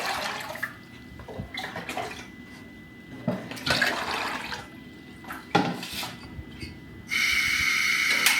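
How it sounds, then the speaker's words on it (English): Water splashing and pouring into a cooking pot for plantain fufu, intermittent gushes and sloshes with clanks of the pot, ending in a steady louder stream of running water; close by, with no talking. "So I want to put water inside this pot."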